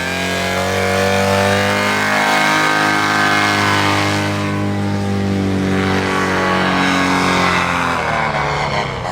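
A paramotor's engine, failing in flight, runs loud and close with a rough, fluctuating drone whose pitch wavers and dips throughout, without voices over it.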